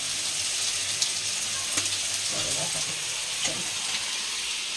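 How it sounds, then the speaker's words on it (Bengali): Cauliflower pieces frying in a pan, giving a steady close sizzle with a few soft stirring clinks and scrapes across the few seconds, no talk over it. "ফুলকপিটা একটু লাল লাল করে ভাজা"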